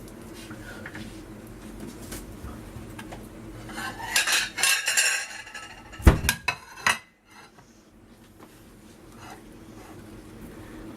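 A knife slices through a homemade Swiss roll with soft filling, giving a few sharp clinks and scrapes against the plate in a short cluster midway, over a steady low room hum.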